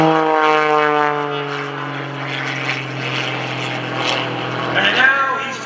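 Aerobatic propeller plane at the Greenwood Lake airshow, flown by Greg Connell, rolling and climbing inverted; a steady, loud engine drone with strong harmonic tones that shift in pitch near the end, with a commentator talking over it.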